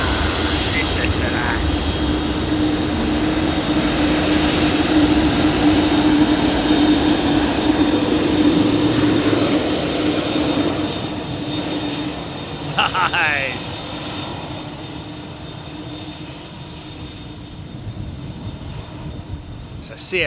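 Lockheed TriStar with CF6 jet engines running at an airport in Memphis, a loud sustained roar and whine that eases off partway through, with voices talking over it.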